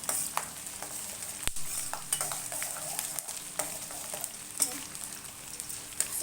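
A spoonful of cumin seeds sizzles in hot oil for chitranna, a steady crackling fizz with scattered pops and a few light utensil taps over the top.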